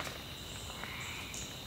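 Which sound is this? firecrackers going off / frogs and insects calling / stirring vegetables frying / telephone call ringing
frogs and insects calling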